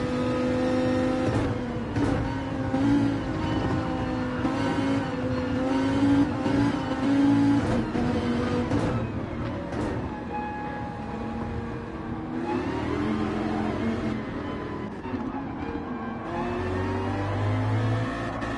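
Onboard race car engine in MRC World Series, revving hard up and down through rapid gear changes, loud and close, with brief tire squeals and no talk.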